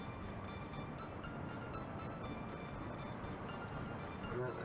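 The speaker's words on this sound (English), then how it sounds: "This is quite slow train to be moving." A slow-moving train in the Workers & Resources city-building game rumbles faintly in the distance, with soft rhythmic bursts of wheel clatter repeating at regular intervals over a low, continuous hum.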